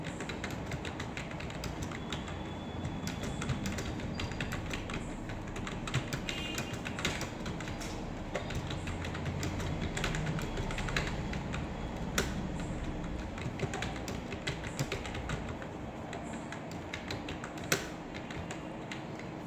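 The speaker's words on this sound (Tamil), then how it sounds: "இப்போ நான் டைப் பண்ண ஆரம்பிக்கிறேன்." Continuous typing on a computer keyboard in an office-software lesson, a fast, faint patter of key taps buried in steady background noise, with no talking.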